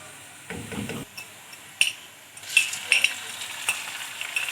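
Garlic and ginger paste sizzles in a hot pan for potato bhujia, a steady close frying hiss with a low thump as the paste goes in, spoon scrapes and clinks, and brighter crackling bursts.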